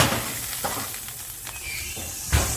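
Slow-roasted pork belly skin crackling and sizzling just out of the oven, a steady close hiss with a few small pops and crackles and no talking.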